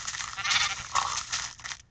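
Two sheep stand close together in the video game Minecraft. A short, fuzzy, wavering bleat is heard up close and fairly quiet, with no talking over it.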